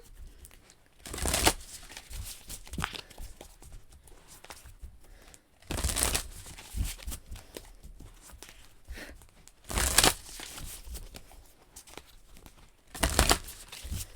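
Tarot cards shuffled in bursts during a live reading, sharp riffling flurries repeating every few seconds with quieter handling and rustling in between, close up with no talk.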